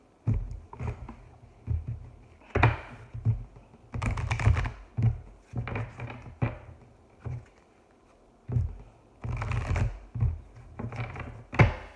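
Tarot cards are shuffled close up in repeated bursts of riffling, slapping and shuffling, coming in irregular clusters with brief pauses between; no one speaks.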